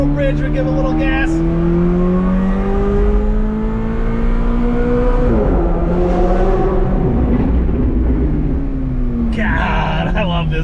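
A McLaren sports car accelerating hard on a highway, its engine rising in pitch through the gears under a loud, continuous roar, with a shift partway through and a voice briefly heard.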